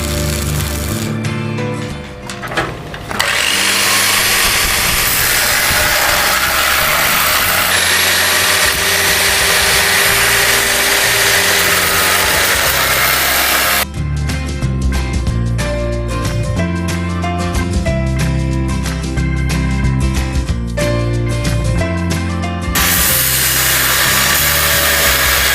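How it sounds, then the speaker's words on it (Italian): An angle grinder cuts metal for a gate, a loud, steady, continuous whine that runs for the whole stretch, close up with no talking. "poi la taglierò con un flex smerigliatrice."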